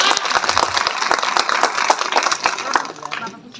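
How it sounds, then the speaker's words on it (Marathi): A crowd claps at a Babasaheb Ambedkar Jayanti gathering: dense, rapid applause that holds strong and then thins and fades toward the end. "खरं तर टाळ्या ह्या जोरातच वाजल्या पाहिजे"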